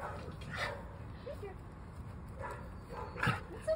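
A dog barks and yips in short bursts, mixed with some whimpering, against a noisy indoor background.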